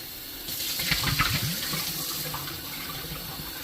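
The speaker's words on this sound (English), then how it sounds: "Just rinse out your vase." Tap water running into a vase as it is rinsed out, a steady close splashing gush with gurgling swirls, no talking.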